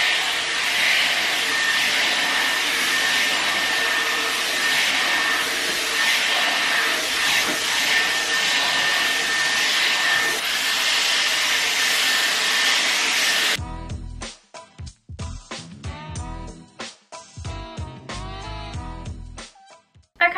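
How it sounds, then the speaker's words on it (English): A Dyson Airwrap heated paddle brush blows steadily through hair for about thirteen seconds, a loud continuous airy whoosh that then cuts off to leave scattered brushing noises. "going back in with this paddle brush and using a bit of heat to brush them out"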